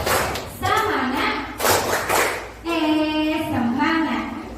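People in a teaching session clap the tepuk semangat cheer together, quick bursts of many hands striking, interleaved with loud unison chanting.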